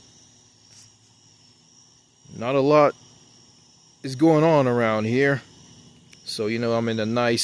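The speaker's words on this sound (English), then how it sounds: "You hear the crickets chirping." Crickets chirp outdoors at night in the woods, a faint steady high trill running throughout beneath someone talking.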